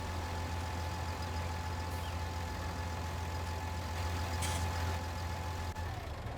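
A tractor engine runs steadily in a field during cultivating, a constant low, loud drone with a faint whine above it and no pauses.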